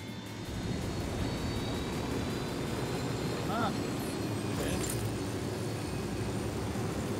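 An airplane drones overhead in the video game Ghost Recon Wildlands, a steady, fairly loud engine hum that holds for several seconds, with no one speaking over it.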